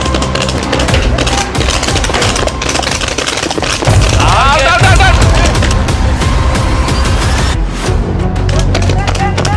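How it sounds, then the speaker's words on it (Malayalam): Rapid bursts of gunfire crack repeatedly, loud and close, with voices shouting over the shots throughout. "ടയറിൽ വെടി വെച്ച് കളിക്കും."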